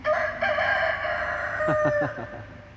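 A rooster crows nearby in a long, strained call, followed by a few short clucking notes from chickens, with no talking.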